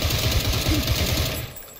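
Rapid automatic gunfire from PUBG, a dense burst of quick repeated shots lasting over a second before cutting off, close and fairly loud.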